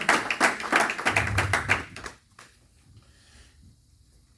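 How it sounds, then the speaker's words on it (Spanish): An audience at a Spanish-language church service claps in a quick burst of loud, close applause that stops sharply after about two seconds, leaving quiet. "Dale un aplauso fuerte al Señor."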